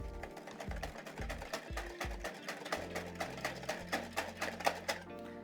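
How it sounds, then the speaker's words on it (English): Stirring milk and beaten eggs together in a mixing bowl, a quick regular rhythm of soft clinking and sloshing strokes, close by, with no one talking. "into this bowl, put your milk, your mixed up eggs, and give that a stir around."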